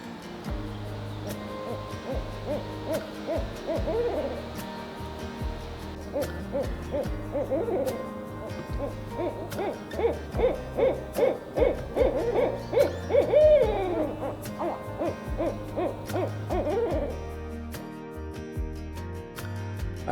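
Barred owls hoot back and forth in rhythmic, wavering calls, building into an excited cackling exchange midway, fairly clear against a quiet background.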